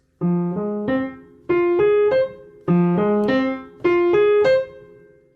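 Piano plays two short phrases from Maple Leaf Rag, each a pair of chords rising in a bouncy ragtime rhythm, clear and close with no talking.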